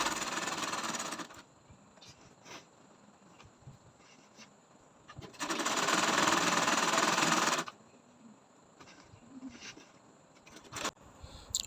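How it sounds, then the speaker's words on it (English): A sewing machine stitching round the flared hem of a girl's gown, running in short mechanical bursts with a longer steady whirring run in the middle and quiet pauses between. "I'm turning up my flay part by sewing it round"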